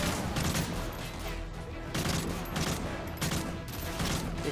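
Rapid automatic gunfire rattles in Call of Duty Modern Warfare 3, loud, dense bursts following one another with brief pauses across the moment.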